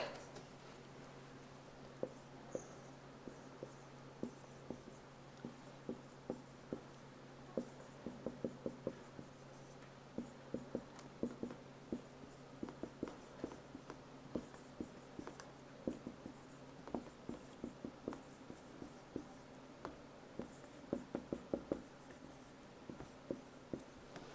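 Pen scratching out handwritten study notes on cranial nerves, faint light strokes and taps coming in irregular bursts over a quiet room hum, with no talking.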